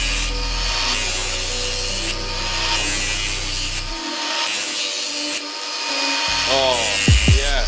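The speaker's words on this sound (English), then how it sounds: "Let's sharpen it up a bit even." A homemade heater hose removal tool being sharpened during a Nissan Stagea engine removal, with steady rasping, grinding strokes that run in repeated bursts of about a second each, with a brief pause midway and a short voice near the end.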